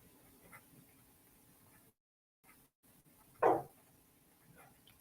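A single short dog bark from downstairs, somewhat muffled and distant, against a quiet room background with brief silent gaps.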